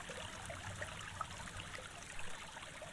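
Gentle trickling stream water flows steadily and softly in a calm setting, a continuous quiet babble with no voices over it.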